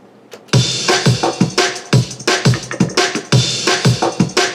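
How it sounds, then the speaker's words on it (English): A drum and bass drum loop plays in Ableton Live with the low end cut, giving fast, punchy kicks and snares in a steady driving rhythm with crisp hi-hats, loud and up front with no voices. "So all together the drums sound like this."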